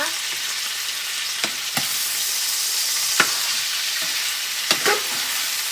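Chicken feet sizzle and fry in a pan for adobo, browning slightly, with a steady bright hiss broken by several sharp spatters and stirring clatters, close and alone without talk.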